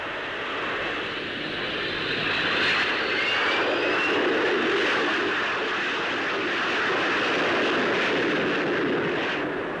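A steady, loud roar of a de Havilland Gyrodyne jet engine mounted experimentally in an aircraft flying past at the 1955 Farnborough Air Show, swelling gently and holding, filling the whole span without a break.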